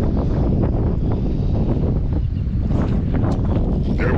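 Wind buffets a microphone on a fishing boat during glide-bait bass fishing, a steady, loud, broadband rush with gusty swells throughout and no talking.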